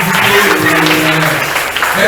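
A church congregation applauds during a service: dense, continuous clapping fills the room loudly from start to finish, with voices mixed in beneath it.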